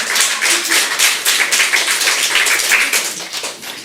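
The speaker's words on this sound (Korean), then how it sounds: "여러분 박수 한번 주시지 않겠습니까?" A Korean church congregation breaks into loud, dense applause, a continuous rattle of many hands clapping close by for about four seconds.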